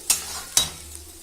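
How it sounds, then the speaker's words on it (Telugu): Tempering spices fry over low heat while being stirred in a pan, two quick scraping strokes over a soft, close sizzle. "ఇలా పోపుని మధ్యలో మనం కదుపుకుంటూ ఉండాలి, సో దట్ అది మాడకుండా ఉంటుంది"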